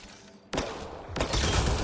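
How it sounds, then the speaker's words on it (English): Gunfire in Mass Effect: Andromeda aimed at a Kett device: a sudden loud burst of shots followed by a second, heavier blast of sustained noise, close and harsh, with no voices. "Shooting the device will destroy it."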